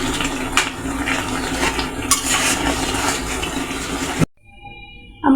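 Spices are stirred into a curry in a pan with a dense, continuous scraping and sizzling wash punctuated by a few clinks, ending abruptly into near silence.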